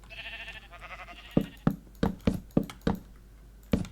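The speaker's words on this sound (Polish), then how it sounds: "Farma owcy gotowa." Sheep on a Minecraft sheep farm bleat in a quick series of short, close calls over a steady in-game background hum, with no voices.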